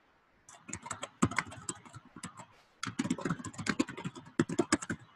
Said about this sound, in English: And then I'm going to type in the exact same text.